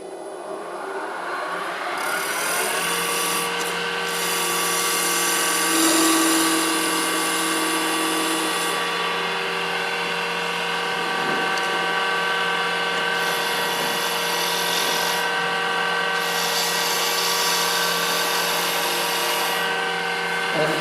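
A wood lathe spins steadily while a skew chisel takes a peeling cut on a lidded box, a continuous whining hum with a faint scraping edge, close and fairly loud.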